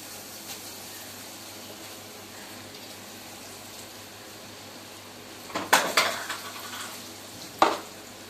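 Small pieces of vada batter dropped into hot oil, a steady low sizzle with a few brief louder bursts of bubbling and utensil clatter near the end.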